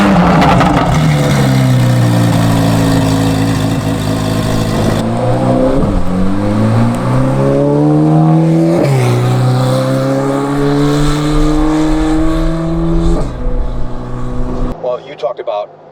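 A Corvette engine revs and pulls hard through several rising gear changes, loud and close, with the pitch climbing and dropping between shifts before easing off near the end; voices talk faintly underneath.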